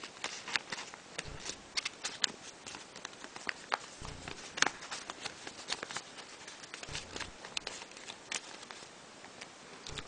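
A paper origami crane has its flaps folded backwards, giving soft, close crinkles and crisp paper taps in an irregular rhythm, quiet throughout.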